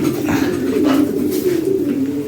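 Fancy pigeons coo in a loft, close and fairly loud, with soft repeated rolling coos layered over one another against a steady background hum.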